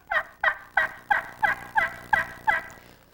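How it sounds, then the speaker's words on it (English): A Grand National slate-over-glass friction turkey call gives eight evenly spaced, mellow yelps, each a short two-note rasp standing clear against a quiet background. "The Grand National slate over glass is, again, it's a mellow sounding call."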